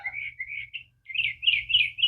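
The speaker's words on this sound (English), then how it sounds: "The birds are excited this morning. I'm sure you guys can hear them." Morning birds chirp in quick, bright bursts in a garden, with a brief lull before the twittering picks up again, steady and fairly close over a low background hum.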